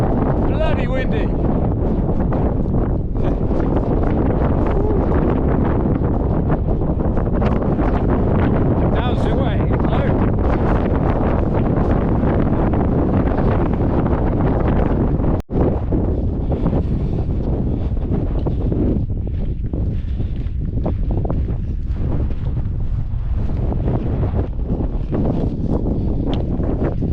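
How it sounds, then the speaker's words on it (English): Strong, steady wind on a hilltop in the Brecon Beacons buffets the microphone throughout, a constant low roar with gusting texture and a brief sharp bump midway. "Every time on the top, bloody windy."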